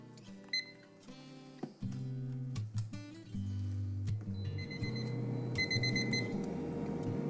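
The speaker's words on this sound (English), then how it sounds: "So the 10-minute timer just went off." An air fryer's 10-minute timer going off in a kitchen while cinnamon sugar banana chips cook, with repeated electronic beeps over a steady appliance hum, close and clear.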